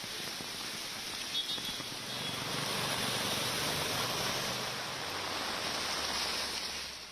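Heavy monsoon rain in Mumbai, a dense continuous hiss of downpour that swells slightly midway and stays steady and loud throughout, without clear voices.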